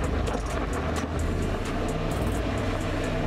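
A Land Rover Defender driving off-road over rough ground, its engine a steady low rumble with wind buffeting and rattling, loud and close throughout, with no talking.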